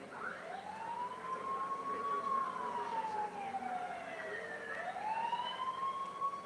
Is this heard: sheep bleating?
no